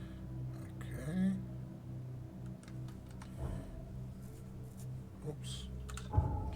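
Sparse keyboard key presses while playing The Sinking City, a few soft clicks and taps spread over several seconds beneath a low rumbling game soundscape.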